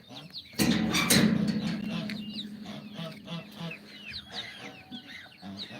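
A flock of geese honks and clucks repeatedly, starting with a loud burst and then continuing in scattered, overlapping calls nearby.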